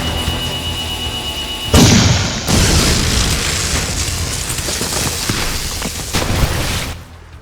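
Video game gunfire and explosions from Jak II: a sudden heavy blast followed by sustained crackling bursts and rapid shots, loud and dense throughout before a final burst and quick fade.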